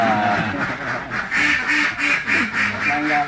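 Laying ducks on a duck farm quack in a dense, close chorus of repeated rhythmic calls, with faint speech in the background.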